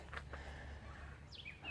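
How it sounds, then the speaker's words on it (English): A bird calls out loudly a couple of times, with a sharp, rising chirp near the end over steady outdoor background noise. "what's a really loud bird up there?"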